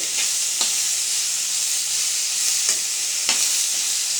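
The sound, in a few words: frying masala with tomato and onion in pan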